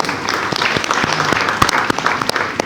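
A short burst of audience clapping at a business presentation, continuous and fairly close, with individual claps standing out through the dense patter.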